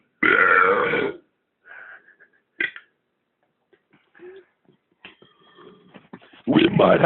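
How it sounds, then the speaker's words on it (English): A loud, drawn-out belch bursts out at the start, followed by scattered quieter noises and a second loud burp at the end. "someone is going to be in the middle of a huge belch"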